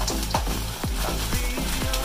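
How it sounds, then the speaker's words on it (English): Potatoes sizzle and crackle steadily in a hot pan, the frying hiss continuous and close, with rhythmic scraping or stirring strokes repeating about every half second. "Hot, not really hot yet, but once it gets sizzling."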